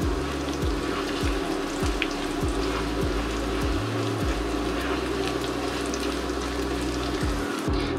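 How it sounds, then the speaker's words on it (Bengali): Onions frying in ghee until crisp for a party pulao, a steady sizzle and crackle running throughout, close and fairly loud, with low thumps and clatter from the pan and no talk. "পেঁয়াজটাকে প্রথমে বেরেস্তা বানিয়ে নেব। আরো কিছু ঘি দিয়ে দেব"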